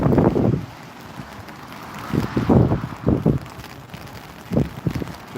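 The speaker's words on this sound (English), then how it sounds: "it's still very wet, very windy" Gusty wind buffets the microphone at Newcastle International Airport on a wet, blustery day, rising and falling in rough surges with a faint patter of rain underneath.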